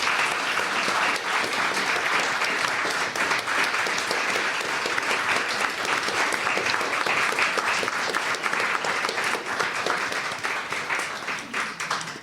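Sustained applause from a live audience for the cast of a backyard history stage show, dense rapid clapping holding steady for several seconds before tapering slightly at the end.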